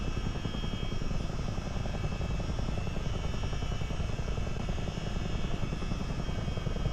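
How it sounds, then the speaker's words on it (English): A Miltech CH-47D Chinook helicopter in Microsoft Flight Simulator, with a loud, steady rotor and turbine roar that holds constant throughout, no voices. "you can enjoy it flying at 150 knots in a Chinook"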